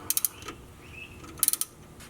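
A wrench turning a 14mm nut on a stainless steel brake line fitting at the caliper of a 2010-2015 Camaro during a big brake kit install, giving two short bursts of quick ratcheting clicks, close and fairly quiet.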